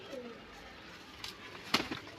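Soft coos from high-flying pigeons sound briefly near the start, followed by a short flutter of noise, with faint background murmur.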